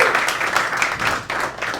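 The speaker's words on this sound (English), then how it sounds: "give him a round of applause" Audience applause for a volunteer at a live magic show involving a Rubik's Cube, a full burst of many hands clapping with scattered individual claps standing out, continuing without talk.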